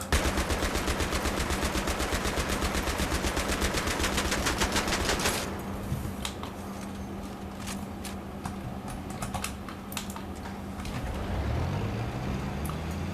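Rapid machine gun fire in the Battlefield 3 video game, a dense loud burst lasting about five seconds, followed by quieter vehicle rumble and scattered sharp sounds as the player moves over terrain.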